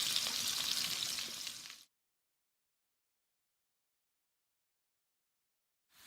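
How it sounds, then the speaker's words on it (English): A brief burst of sizzling chicken thighs frying in butter, bright and crackly, that cuts off abruptly into silence. "frying it in butter."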